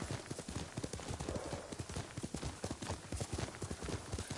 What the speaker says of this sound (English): I wouldn't normally ride a horse, to be fair.